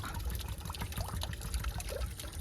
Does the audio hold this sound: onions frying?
no